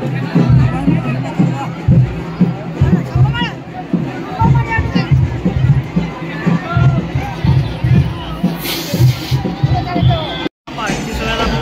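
Dense festival crowd at the Kalbhairi yatra palanquin procession in Gadhinglaj, loud continuous babble and shouting with rhythmic halgi drum beats pulsing underneath throughout, briefly cut near the end.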